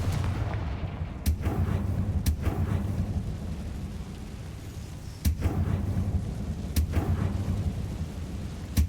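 Confringo blast spell fired in Hogwarts Legacy, a series of sharp booming explosive cracks, roughly five separate loud impacts spaced irregularly over a low rumbling background.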